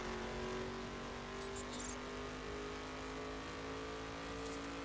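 Car steadily driving through a bend in the racing game The Crew, its engine holding a continuous mid-pitched drone throughout, with faint higher tire or wind hiss flickering in briefly, no talk over it.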